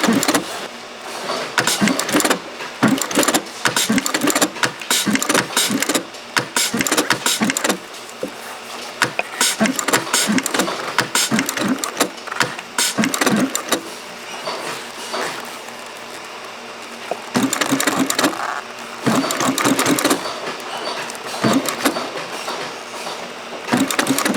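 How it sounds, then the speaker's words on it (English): An industrial sewing machine in a Vermont glove factory stitches a leather glove seam with a back tack, giving a loud, fast rhythmic clatter in long runs broken by short pauses, with no talk over it. "at the start of every seam, we back tack to lock the stitch in and make it as durable as possible"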